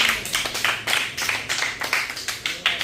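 Crowd applause at a desi prize-giving event, a steady rapid patter of many hands clapping close by, continuous for a few seconds with no voices over it.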